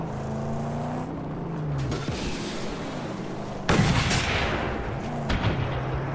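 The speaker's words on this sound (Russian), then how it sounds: "мы, может быть, сможем из гарпуна выстрелить" In the Mad Max video game, heavy mechanical rumble and clanking, then a sudden loud blast-like harpoon shot with a whooshing burst partway through, followed by lingering noisy echoes.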